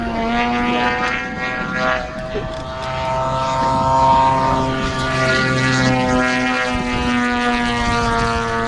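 A propeller-driven aerobatic Extra flies fast rolls with a loud, steady engine drone that swells and fades slightly as it passes, with a voice talking faintly beneath it.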